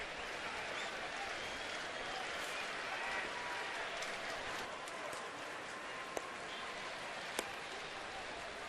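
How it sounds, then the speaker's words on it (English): A baseball crowd at a ballpark game claps steadily at the start of a rally, a dense, distant wash of applause with a couple of sharp isolated claps standing out. "Crowd anticipating something, clapping for the start of a rally"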